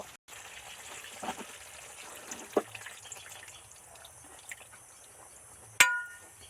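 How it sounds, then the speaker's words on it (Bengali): Thinned liquid poppy seed paste poured into a wok while cooking snake gourd posto: a faint, soft trickle over a quiet kitchen background, ending in one sharp metallic clink. "লিকুইড পোস্তটা ওই কড়ার মধ্যে দিয়ে দেব"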